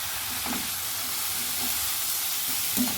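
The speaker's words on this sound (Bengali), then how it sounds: "আমি কপিটা দিয়ে এটাকে ভাজবো।" Cabbage frying in a pan makes a steady, close sizzle and hiss throughout, with occasional soft stirring knocks.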